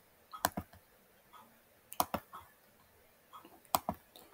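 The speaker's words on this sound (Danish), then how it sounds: "Og så klikker jeg bare på punkterne." A computer mouse clicks on points in GeoGebra. The clicks are quiet and come as three close double clicks, spaced evenly over a few seconds against a hushed room.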